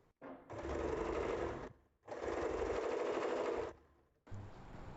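Sewing machine stitching a nightie, running in three sustained bursts of rapid mechanical whirring with short pauses between, close and clear, no talking.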